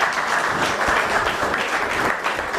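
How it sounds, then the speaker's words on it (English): An audience claps and applauds at a talk by Dr Umar Johnson, a dense, loud burst of many hands that holds steady throughout with faint voices mixed in. "give a big round of applause"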